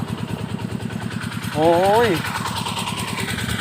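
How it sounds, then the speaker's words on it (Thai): A small water pump engine runs steadily with a rapid, even chugging throughout, while a voice briefly cries out over it. "เสียงเครื่องดูดน้ำดังนะครับ"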